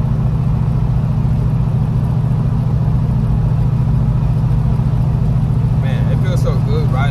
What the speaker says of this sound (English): Man, it feels so good riding this truck.